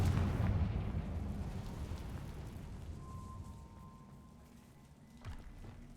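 A Confringo fire-blast spell explodes in Hogwarts Legacy: a loud, deep boom that rumbles and slowly fades over several seconds, with a smaller thump near the end.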